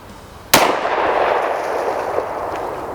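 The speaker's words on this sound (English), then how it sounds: "I'm just gonna show you that I can fire this gun with holding it with 2 fingers just like this." A single sharp report from a .357 SIG pistol held with only two fingers: one loud close crack with a sudden onset, followed by a long echoing decay and faint room reflections.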